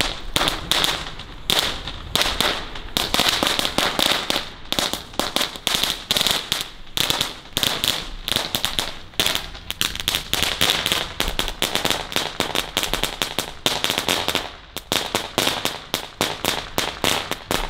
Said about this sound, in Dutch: Oh, knetterton van Zena.